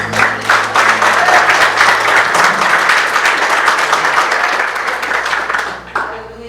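Sustained applause from a church congregation, steady clapping for about six seconds before tapering off near the end.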